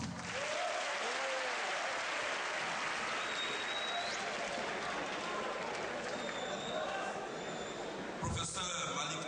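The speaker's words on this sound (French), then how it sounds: "Merci. Applaudissements." A large crowd at a tribute gathering for P.E. Lumumba claps continuously and energetically, a thick wash of applause throughout, with a voice briefly breaking in near the end.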